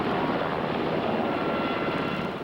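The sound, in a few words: Coast Guard rescue helicopter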